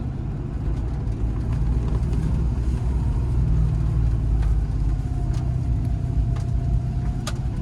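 A 30-year-old Land Rover Discovery with a 5-speed gearbox creeps along slowly in first gear. Its engine gives a loud, close, steady low rumble throughout, with no talking.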